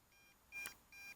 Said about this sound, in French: Je vais revenir parce que la radio bip.